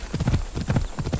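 Horse hooves clip-clop in Assassin's Creed Odyssey, a steady fast rhythm of close, loud hoofbeats with no talk over them.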